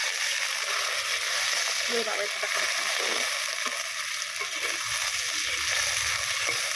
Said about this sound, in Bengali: সজনাটা ভেজে নিই